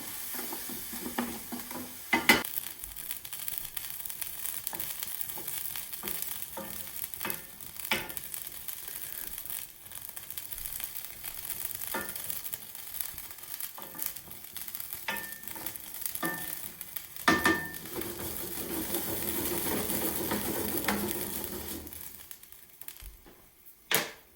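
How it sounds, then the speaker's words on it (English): A utensil scrapes across the bottom of a sizzling pan while making veal Marsala, with a constant frying hiss under repeated sharp scraping and clicking strokes spread unevenly through the stretch. "So you're gonna scrape all that stuff off the bottom of that pan."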